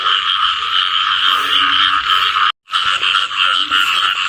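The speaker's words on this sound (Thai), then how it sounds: "นี่ครับผม กบตัวเมียครับ" A loud, dense chorus of frogs croaking nonstop in a rural village during the first heavy rain of the season, broken by one brief gap. No voices are heard.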